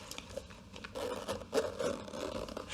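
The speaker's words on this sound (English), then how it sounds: "And then let me zip it back up." Zipper on a Chanel Vanity Case bag being pulled closed, a few close, quick rasping zip strokes in a quiet room.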